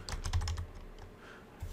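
Quick, close keystrokes clatter on a computer keyboard in a brief burst, thinning out into a few lighter taps over a quiet background.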